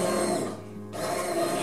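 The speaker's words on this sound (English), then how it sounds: "So as I move my blender around in it," A hand blender whirs through cream of mushroom soup, a loud buzzing motor whine that dips briefly mid-way as the blade lifts, then resumes at full strength.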